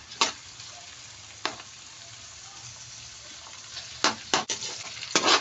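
Chopped tomato and onion sizzle steadily in a hot pan for a sardine, misua and sponge gourd dish, with a few sharp stirring clatters at irregular intervals over the constant frying hiss.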